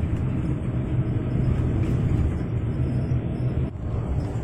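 A Safari Dharma Raya intercity bus on the Jakarta–Temanggung–Jogja route races past on the highway, a loud, steady road rumble and engine roar heard from a bus, with a brief dip near the end.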